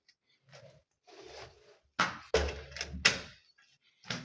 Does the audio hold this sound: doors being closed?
yes